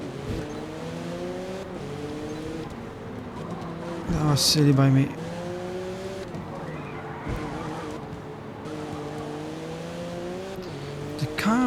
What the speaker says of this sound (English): The car was sliding like mad.